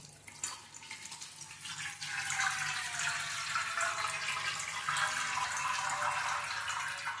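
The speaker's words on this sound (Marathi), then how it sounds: "याच्यामध्ये लगेचच एक मोठा ग्लास किंवा एक तांब्याभर गार पाणी टाकायचं" A large glass of cold water is poured into a cooking pot while making a vegetarian soya-based mutton-style dish. A steady, close splashing rush runs through the whole clip and grows fuller after the first couple of seconds.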